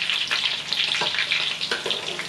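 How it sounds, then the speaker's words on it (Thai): Sliced raw kluai hak muk bananas fry in hot oil for banana chips, giving a steady loud sizzle with bubbling crackle throughout and no talk over it. "น้ำมันเริ่มร้อนใส่กล้วยลงไป"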